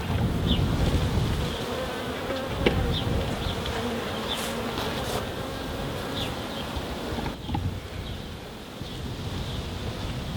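A dense, continuous drone of many honey bees buzzing at a hive, close to the microphone, with occasional nearer individual buzzes and light wind noise.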